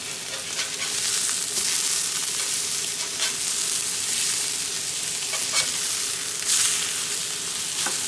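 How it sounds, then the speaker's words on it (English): Salisbury steak patties sear loudly in a hot frying pan, a steady dense sizzle running the whole time with a few brief pops and spatters rising over it. "They've been cooking for a couple minutes, and watch, there's a good sear on them."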